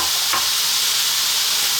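Cold cooked rice for tuna broccoli fried rice hits a hot pan with a loud, dense, continuous hiss and crackle, one brief scrape of the utensil near the start, very close.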